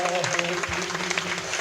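Listeners at a Hindi poetry recitation applaud after a poem, a brief burst of clapping from a crowd with a low steady hum beneath it.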